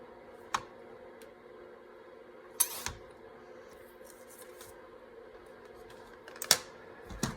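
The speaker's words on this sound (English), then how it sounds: "We're just gonna trim this side off here." Paper ephemera for a journal is trimmed in a few sharp, isolated snips and clicks spaced several seconds apart, close and quiet against a near-silent background, with no speech.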